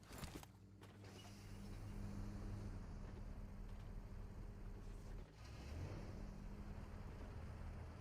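Engines of several Porsche cars in the battle-royale game PUBG Mobile drone steadily as they drive, a low continuous roar with a rising tone near the end, loud and close.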